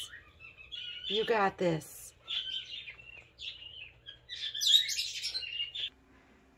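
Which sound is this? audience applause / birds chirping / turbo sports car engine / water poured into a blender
birds chirping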